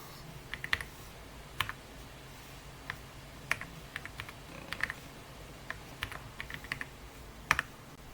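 Typing a command on a computer keyboard during a Windows lab task, a steady run of quiet, close key clicks with slightly irregular rhythm and a few sharper taps.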